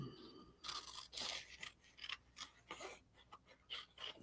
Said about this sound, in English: I'm going to cut a couple things out to make it what I want here